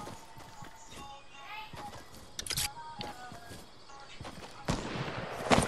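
Sniper rifle shots ring out in the video game Fortnite as sharp, loud cracks, one near the middle and another at the end, amid light game noise and footsteps.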